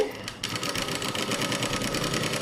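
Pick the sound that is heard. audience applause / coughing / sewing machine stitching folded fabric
sewing machine stitching folded fabric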